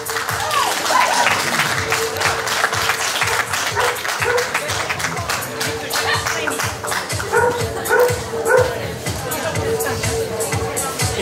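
Applause from an indoor crowd honouring an award-winning groomer at a dog grooming show prize ceremony, steady clapping mixed with dogs barking and yipping nearby and voices talking underneath.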